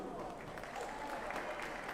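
An audience at an ACAA men's volleyball match, Holland at UStA, applauds the match officials with steady, faint clapping that holds at an even level throughout.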